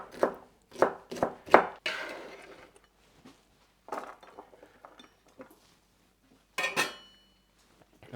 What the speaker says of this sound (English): so I'll cut it lengthwise first. And then cut it across.